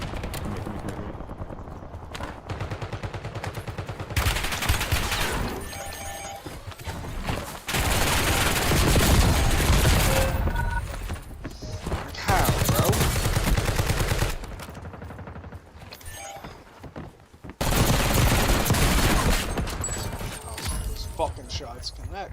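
Video game gunfire comes in bursts of rapid, loud shots and sustained firing, broken by quieter stretches, with voices talking over parts of it.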